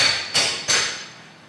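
Two sharp hammer blows ring out on metal, each leaving a bright metallic ring that fades slowly.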